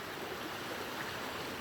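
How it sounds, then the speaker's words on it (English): Muddy floodwater pours over at a bridge, producing a steady, rushing wash of moderate loudness without pauses. "It's overflowing."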